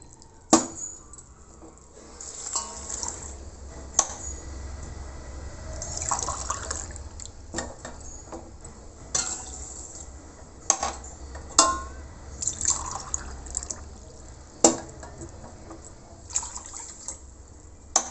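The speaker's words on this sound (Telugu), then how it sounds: "ఈ గ్లాస్ తోటి నిండుగా 3 గ్లాసులు పోసుకుంటానండి నీళ్ళు" Water pours from a glass into a pot in several short splashing bursts with drips between, fairly close, over a low steady background hum.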